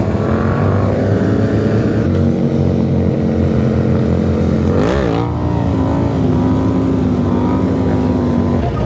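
Engine of a Razor electric stunt bike on a highway, a steady loud droning whine with strong wind roar throughout and a brief surge of pitch near the middle; no talking.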